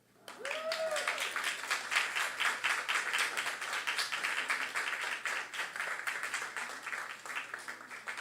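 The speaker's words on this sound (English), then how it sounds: "Let's give her another round of applause." Audience applause for a storyteller at a family storytelling event, steady dense clapping that rises quickly and carries on for several seconds at a moderate distance.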